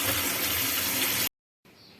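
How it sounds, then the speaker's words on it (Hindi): Cold water pours and gushes loudly over boiled macaroni for about a second, cuts off abruptly, then a softer trickle resumes. "अब इसमें हम ठंडा पानी डालते जाएंगे ताकि ये जुड़े ना"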